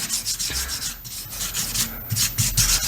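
Continuous rhythmic rasping strokes of sandpaper rubbed over a spliced wooden baseboard trim joint, heard close up and alone.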